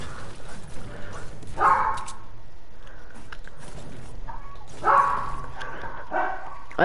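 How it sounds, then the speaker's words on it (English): A dog barks in the background during a live stream, a few short yelping barks spaced a few seconds apart, moderately faint against room noise. "sorry about the dog in the background"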